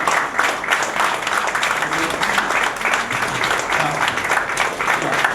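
A hall audience applauds as medical consultants of a bone and joint institute stand to be recognised, a sustained full clapping texture with faint crowd murmur beneath, even in loudness throughout.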